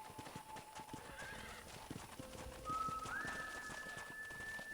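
Steady clip-clop of a horse's hooves while riding in Red Dead Redemption, with an occasional neigh or whinny, a bird call and a rising tonal whistle over the riding rhythm, with no talking.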